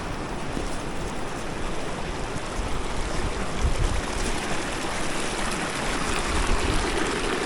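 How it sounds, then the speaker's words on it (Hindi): A freshwater mountain stream flows beside the Ganesh Ganga river at Gamshali Bugyal meadow, a steady, loud, broadband rushing of water that continues without pause. No voices are heard over it. "एक तरफ जो है मीठे पानी का ये स्रोत है, ये जो है गणेश गंगा से मिलते हुए आ रही है"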